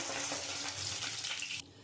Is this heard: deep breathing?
no